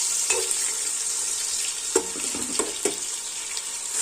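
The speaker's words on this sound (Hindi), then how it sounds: "अब हम इसमें प्याज डालेंगे और इसको हम लाइट ब्राउन करेंगे" Chopped onions frying in about half a bowl of hot oil on a stove, a steady close sizzle with scattered sharp crackles and a few stirring knocks.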